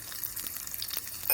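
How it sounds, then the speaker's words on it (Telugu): Tempering seeds and cashews crackle and sizzle in hot oil in a pan for lemon rice, a close, continuous frying hiss with small pops scattered throughout and no talk. "చూడండి అన్న, ఎంత చక్కగా అలా తాలింపు వేగుతుంది."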